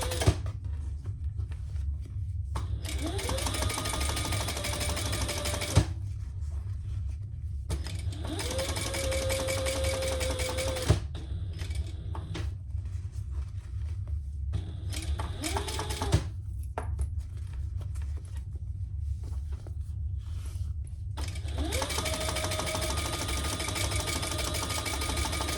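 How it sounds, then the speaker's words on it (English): Top stitching along the upper lining on a sewing machine comes in repeated runs of steady mechanical whirring, each stopping and restarting with a brief whine over a constant low motor hum, close and alone. "we're going to stitch on the upper lining"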